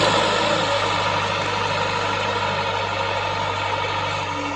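A Sonalika Sikander tractor engine rumbles steadily at a low, constant idle-like drone while reversing in a farm field, close and continuous with no speech.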